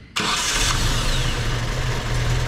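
An engine cranks and catches abruptly, then settles into a loud, steady rumbling idle close by.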